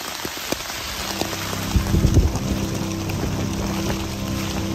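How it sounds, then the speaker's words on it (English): Heavy rain drums steadily on a tent during a storm in the Yukon wilderness, a dense close patter with a brief louder gust of spatter near the middle, with no voices. "There she is, the line of rain."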